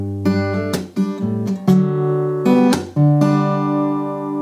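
Guitar playing the verse of a song into a transitional chord: several strummed chords with rich ringing harmonics, each separated by brief string scrapes, close and clear, final chord left to sustain.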